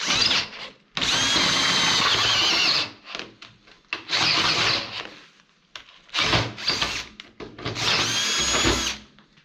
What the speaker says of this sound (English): Doing holes like this on a flat surface can't beat a Mac drill.